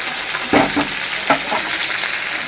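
Fish head and fish fat fry in a large wok, giving a steady broadband sizzle with a few louder bursts as pieces are moved or stirred, close and alone with no talking.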